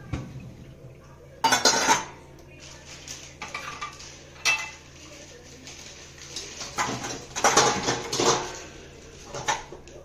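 Dishes, cutlery and kids' tiffin boxes are stacked into the upper and lower racks of a dishwasher, with repeated close clattering and clinking bursts at an uneven pace.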